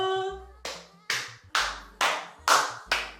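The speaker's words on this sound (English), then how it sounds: "round of applause." Seven sharp hand claps land in a steady, even rhythm, close and fairly loud, after a short tonal sound at the start.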